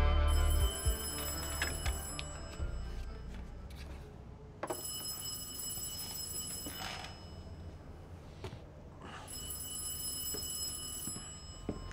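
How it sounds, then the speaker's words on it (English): A telephone ringing in a movie scene, repeated electronic rings in bursts over a quiet, low background. "Why do people in movies take so long to answer the flipping phone?"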